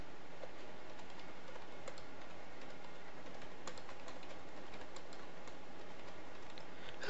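Password typed on a computer keyboard, a quick irregular run of light key clicks close by, steady and unaccompanied over a faint room hum.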